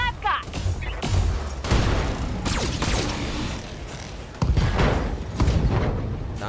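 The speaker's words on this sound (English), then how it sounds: "I'm gonna start shooting this guy in the legs. How much armor? Yeah. Firing everything I've got." A Battletech mech fires all its weapons in a fusillade of booming shots and thuds in repeated bursts, with loud blasts near the start and again around four and a half seconds, and no clear talk over them.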